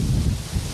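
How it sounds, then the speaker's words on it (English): A gust of Hurricane Ike's wind buffets the microphone along the Gulf Coast, a steady low rumbling rush of air that swells and eases slightly over a brief moment, with no voices. "Here comes another one of those gusts I was talking about."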